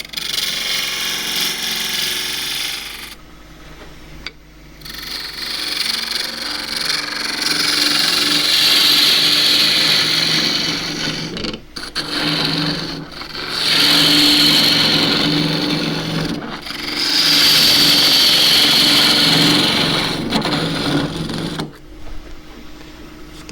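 Dry jarrah burl spun on a lathe and cut with a spindle gouge, loud rough tearing tool cuts swelling in long bursts over the steady motor hum, with short pauses between passes.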